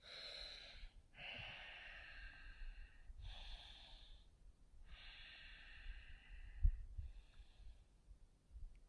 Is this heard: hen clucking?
no